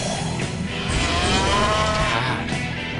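Cows in the Digital Devil Saga video game moo in a long, drawn-out, wavering low call, loud and close over a steady game background, with no talk.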